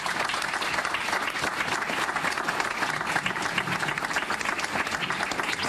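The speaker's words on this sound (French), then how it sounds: "et on peut les applaudir en effet." A crowd at a political rally for the Marseille municipal elections breaks into steady, dense applause, many hands clapping continuously at a moderate level with no talk over it.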